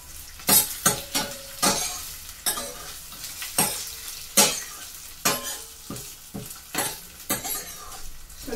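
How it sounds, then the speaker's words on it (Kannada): Green chillies and curry leaves frying in oil over a low flame, a soft sizzle broken by repeated sharp scrapes and clinks of a spatula against the pan, roughly one or two strokes per second. "ಲೋ ಫ್ಲೇಮಲ್ಲಿ ಇಟ್ಕೊಂಡು ಫ್ರೈ ಮಾಡಿ."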